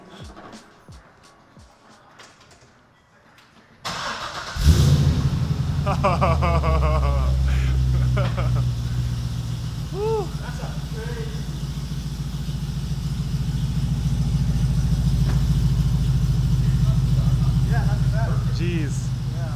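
A Chevrolet C6 Corvette fitted with new headers cranks over and fires into a loud, deep idle, a steady rumble that holds after the startup surge. A person speaks briefly over it.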